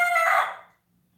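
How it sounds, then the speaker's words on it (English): A rooster crows once nearby, a loud, raspy call that fades out into quiet. "now the chicken's starting"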